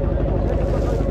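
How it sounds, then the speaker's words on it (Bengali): Motorboat ride on a river, with a steady low engine drone and water and wind rush filling the whole span, continuous and close, without pauses. "বোটে চড়ে পড়েছি।"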